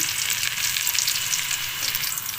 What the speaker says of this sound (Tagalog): Ilaglag na natin ang ating mabangong bawang.